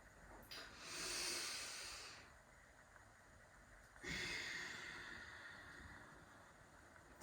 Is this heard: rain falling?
no